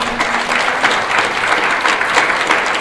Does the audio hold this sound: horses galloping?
no